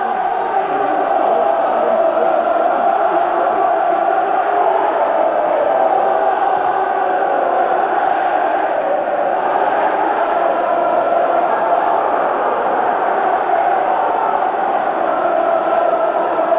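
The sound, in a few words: football match crowd noise, Hull City vs Huddersfield Town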